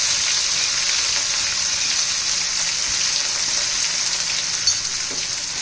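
Crushed green chili paste with mustard seeds and asafoetida sizzling in hot oil, a loud, steady, close hiss that holds evenly throughout without a break.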